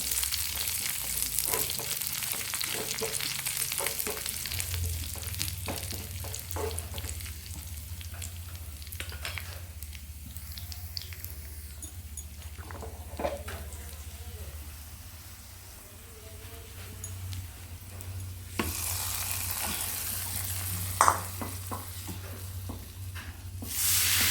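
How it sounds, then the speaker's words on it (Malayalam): Onions and curry leaves fry in hot oil for a prawn curry, giving a steady close sizzle with stirring clatter and scraping throughout, swelling into a louder burst of crackle near the end. "പിന്നെ നമ്മൾ ഉള്ളിയൊക്കെ ഇവിടെ മൂത്തിട്ടുണ്ട്. ആ സമയത്ത് നമ്മൾ കറിവേപ്പില ഇട്ട് കൊടുക്കാം."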